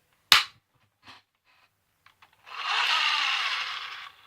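A Nerf Zombie Strike Crosscut blaster's mechanism gives one sharp, loud plastic snap, followed by a few faint clicks and then a longer hissing rasp, with no voices present.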